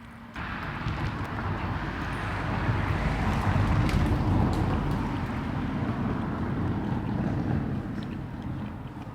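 Boat engines on Midmar Dam drone steadily from a distance, a low rumbling wash swelling in the middle, with wind buffeting the microphone throughout.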